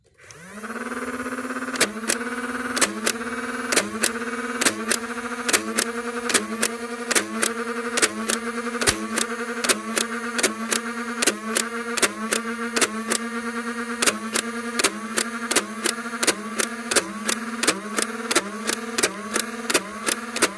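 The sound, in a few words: Nerf Big Power Electric 509 blaster firing darts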